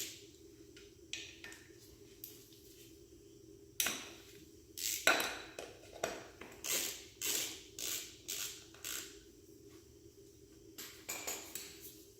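A ratchet wrench works 5/16 bolts loose in a star pattern on a 2001 Suzuki RM 250 dirt bike clutch cover, giving repeated metallic creaks and clicking ratchet strokes in close, rhythmic bursts over a quiet background.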